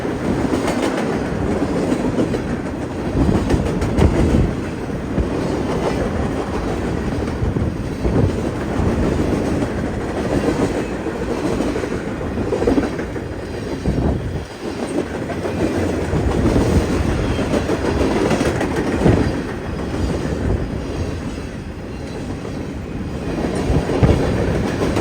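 A train rolls past on BNSF's Mendota subdivision between Mendota and Aurora, Illinois, a steady loud rumble with rhythmic clickety-clack of wheels over rail joints lasting throughout, close by and without voices.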